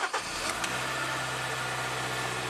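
A 2012 Kia Forte engine running at a steady high idle with the brake booster vacuum line pinched off, a continuous close droning hum after a brief rev at the start, no talking.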